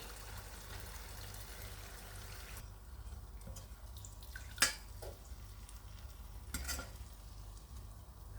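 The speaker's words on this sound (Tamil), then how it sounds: "எண்ணெய் வந்து சரியான சூட்டில் இருந்தாலே அரியதுரம் நல்ல வடிவாக பொங்கி வரும்" Ariyatharam sweets frying in hot oil give a steady soft sizzle and bubbling, with a couple of brief clinks of a utensil against the pan, quiet and close.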